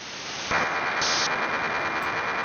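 A radio being tuned across frequencies hisses with broadband static, which jumps louder abruptly after a quiet start, then stays as a rough, constant crackle with a brief tonal shift midway.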